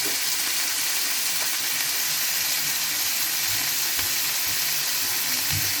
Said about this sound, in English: Let's look at the sizzling steaks.